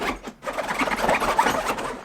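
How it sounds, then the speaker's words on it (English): A $60 Amazon carry-on suitcase zipper being pulled along its track, a close, scratchy rasp that briefly snags and stutters partway through before running on, with no voices. "So overall, yes, there is zipper catching"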